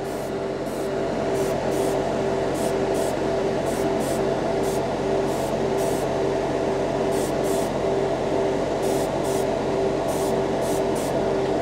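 Paint from a 50-year-old 1971 Testors jar being sprayed on in extra coats, a steady, close, unbroken hiss with soft regular pulsing and no voices.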